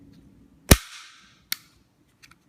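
A Heckler & Koch P30SK pistol's slide is racked, producing one loud sharp metallic clack up close, a quicker second snap soon after, then a couple of faint small clicks.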